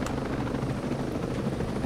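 Helicopter flown by the player in Ghost Recon Breakpoint, a steady low rotor thump and engine drone held at even, moderate loudness throughout.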